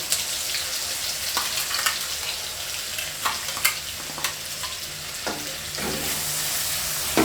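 Ground paste of ginger, garlic, onion and dried chili frying in a pan: a continuous bright sizzle with intermittent spatula scrapes and taps, moderately loud and near, with no voices.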